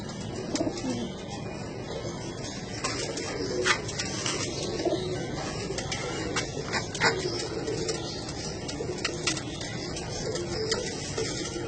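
Champion pigeons kept at a home loft coo softly and repeatedly amid a busy background of flapping and shuffling, the calls overlapping at close range with faint talk nearby.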